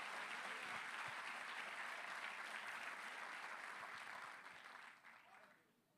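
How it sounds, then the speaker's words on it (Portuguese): A church congregation applauds together in a steady wash of clapping that holds for several seconds, then thins and fades away toward the end. "Aplauda o nome dele se você o adora"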